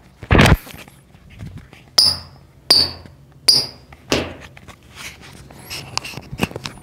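Futsal shoes strike a hard floor in a series of sharp, separate knocks and taps, roughly one per second, loud and close with quiet gaps between them.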